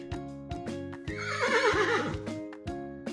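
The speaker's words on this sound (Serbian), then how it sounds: "Konj njišti." A horse neighs once in a long, loud whinny with a wavering pitch, rising and falling over about a second, set over steady light background music.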